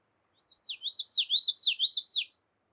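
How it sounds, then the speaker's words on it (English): Common yellowthroat warbler singing a single clear, high, rhythmic phrase of repeated rolling notes, close and alone against silence. "Common yellowthroat."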